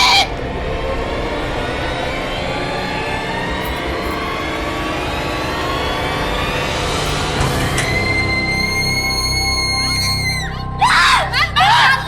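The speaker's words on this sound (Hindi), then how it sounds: "आप इतना चीख क्यों रही थी?" A woman screams in a haunted ghost-story drama, a long shrill wail that rises and holds over a dense background, ending in a few sharp breathy cries.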